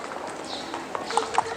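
Hooves of a horse-drawn carriage clip-clopping on a street in a period setting, a few quick, light hoofbeats picking up toward the end while voices talk over them.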